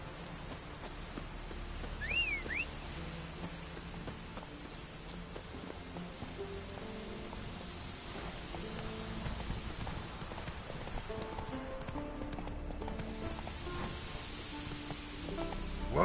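Roach, the horse in The Witcher 3: Wild Hunt, clip-clops at a steady walking rhythm throughout, faint and continuous under quiet game ambience with a brief whinny-like sound early on.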